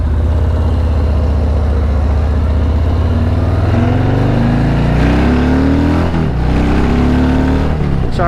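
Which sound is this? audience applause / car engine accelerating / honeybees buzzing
car engine accelerating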